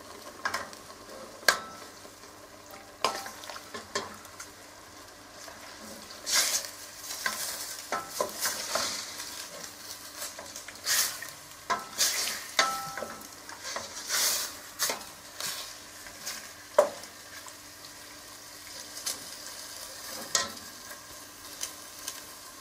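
Meat for Brassói aprópecsenye frying in its own fat in a pan, a soft continuous sizzle broken by frequent scraping and stirring knocks, close and fairly quiet, with no talk.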